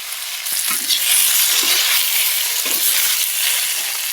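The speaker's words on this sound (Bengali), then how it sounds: "দিয়ে সমস্ত সবজিগুলো খুব ভালো করে ভেজে নেব।" Salted mixed vegetables fry in a pan with a steady, close broadband sizzle, broken by a few soft scraping stirs; no voices.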